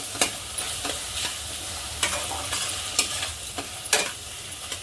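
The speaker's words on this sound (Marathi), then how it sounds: "परतून घ्यायचे जेणेकरून हे टमाटे छान असे नरम पडले पाहिजे" Tomatoes sautéing in oil in a pan, a constant hissing sizzle broken by repeated sharp scrapes of a spatula stirring, close and alone.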